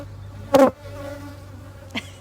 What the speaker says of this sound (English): Yes, there are actually bees everywhere right now.